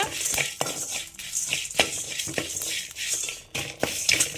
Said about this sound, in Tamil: இப்போ இது எல்லாத்தையுமே நல்லா ட்ரை ரோஸ்ட் பண்ணி எடுத்துக்கலாம் அடுப்பை லோ ஃப்ளேமில் வச்சு நல்லா ரோஸ்ட் பண்ணி எடுத்துக்கோங்க